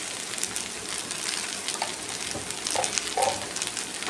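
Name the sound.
okra sautéing in pan with salt and turmeric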